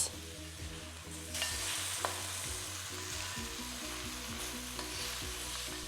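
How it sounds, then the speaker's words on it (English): Ginger garlic paste frying with onions in a pan, a steady sizzle with stirring scrapes throughout, and a low hum running underneath. "Now we are adding 1 teaspoon of ginger garlic paste and cook until raw smell from ginger garlic leaves."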